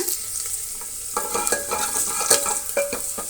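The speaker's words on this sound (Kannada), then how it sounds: "ಸ್ವಲ್ಪ ಉಪ್ಪು ಸ್ವಲ್ಪ ಈರುಳ್ಳಿ ಸ್ವಲ್ಪ ಕರಿಬೇವಿನ ಸೊಪ್ಪು ಈಗ ಇಷ್ಟನ್ನು ಫ್ರೈ ಮಾಡೋಣ" Onion and curry leaves with a little salt frying in a pan for sambar, a steady close sizzle broken by stirring scrapes and soft clicks of a spoon against the pan.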